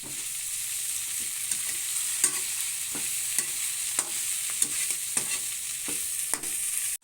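Pork skin and kangkong leaves are stirred in hot oil in a pan, with a steady close sizzle broken by repeated sharp scraping strokes of the utensil.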